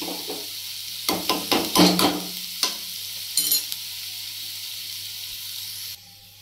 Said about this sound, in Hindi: ये लहसुन और धनिया को मैंने कूट दिया था पीस दिया था मतलब कुंडी में और अब इसमें डाल दूंगी मैं ऑयल में